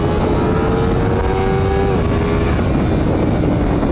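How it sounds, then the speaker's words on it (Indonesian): A 2023 Honda CBR250RR motorcycle on a top speed run along a straight of about 1.2 km with a new gear ratio, its engine a loud sustained high-revving drone with pitch climbing then shifting, close up. "nyoba top speed dengan CBR 250 RR"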